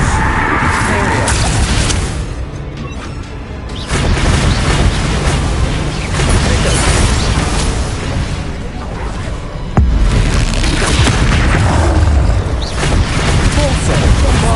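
Repeated Bombarda spell explosions in a Hogwarts video game, heavy booming blasts with rumbling debris that swell in waves across a noisy combat scene, with voices barely present beneath.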